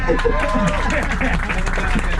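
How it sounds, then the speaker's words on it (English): A short burst of audience clapping in a New York City interactive ride venue, dense and steady under several voices talking and cheering over it. "Clap for it!"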